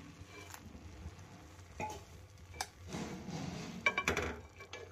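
A spoon scrapes and clinks against a pot over full heat as grated carrots for gajar halwa are stirred with freshly added milk, with intermittent soft metallic taps and a brief wet shuffling midway, no talking.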